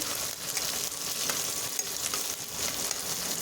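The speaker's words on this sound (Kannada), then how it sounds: "ಈರುಳ್ಳಿ ಹುರಿದಿದ್ದಾದಮೇಲೆ ಇದಕ್ಕೆ ಸ್ವಲ್ಪ ಕರಿಬೇವಿನ ಸೊಪ್ಪನ್ನು ಸಹ ಸೇರಿಸಿ ಇದನ್ನು ಫ್ರೈ ಮಾಡ್ತಾ ಇದ್ದೀನಿ" Onions and curry leaves fry in a pan for a sweet pumpkin palya, a constant close crackling sizzle with occasional light ticks and pops, no talking.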